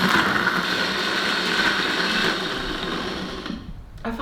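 A blender whirs loudly and steadily close by while mixing Brazilian lemonade made with whole limes, peel left on, then winds down and stops near the end.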